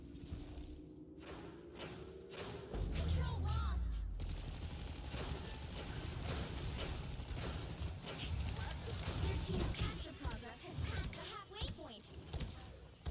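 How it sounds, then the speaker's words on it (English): Orb projectiles are fired in the Marvel Rivals video game as a dense, continuous stream of rapid shots and impacts, with a player talking over the busy game action throughout. "I'm just shooting orbs, man."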